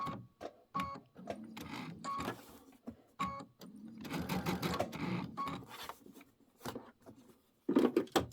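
A sewing machine doing straight-line quilting on a mini quilt, with short bursts of stitching interrupted by pauses and small clicks and handling noises, fairly faint and close.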